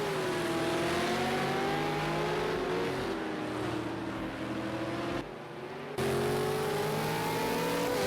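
V8 Supercars racing at Ruapuna Park: a loud, continuous engine roar with rising and falling pitch as the cars accelerate and brake, and a brief drop in the middle before the roar returns.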